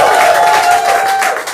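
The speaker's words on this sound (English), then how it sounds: "Please a round of applause" An audience at a live comedy night applauding and cheering, a dense wash of clapping and crowd noise, loud and continuous through the brief moment.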